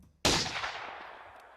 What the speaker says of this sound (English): There really was a gunshot.